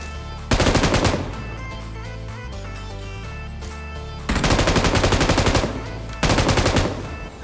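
Bursts of loud, rapid M249 machine gun fire in BGMI, three separate sustained volleys with quieter game ambience between them and no talking.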